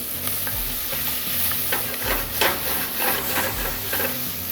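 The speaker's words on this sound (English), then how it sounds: "throw on my onions, start to saute." Onions sauté in a pan, giving a steady close sizzle with repeated stirring scrapes throughout.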